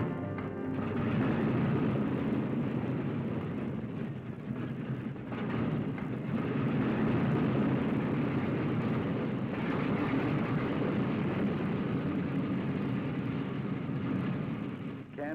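A TWA Lockheed Constellation airliner drones steadily in flight, its piston engines producing a continuous, dense, unbroken roar that holds at an even level throughout.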